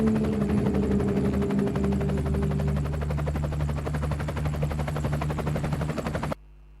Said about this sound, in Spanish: ahí se veía el corolario del 19 y el 20 de diciembre, que fue aquel helicóptero en el que De la Rúa escapó de la Casa Rosada